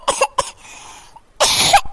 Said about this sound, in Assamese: বিধম কাহ হৈছে আৰু দেই মোৰ